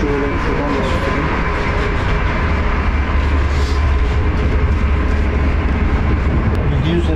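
A Russian passenger train bound for Moscow rolls along its rails, heard from inside the carriage as a loud, continuous low rumble with faint rattling, while a person talks over it.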